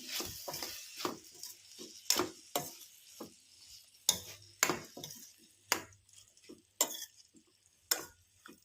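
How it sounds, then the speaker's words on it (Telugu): A spoon stirs tomato into a simmering cucumber and carrot curry, giving a quiet, regular series of light clinks and scrapes roughly once a second over a faint background hiss, with nobody speaking. "ఇప్పుడైతే టమాటాని కలుపుకుందాం"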